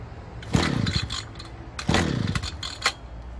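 A smoky, underpowered two-stroke brush cutter engine is pulled to start twice, each pull catching into a brief loud revving burst before dying down, heard up close with no talk.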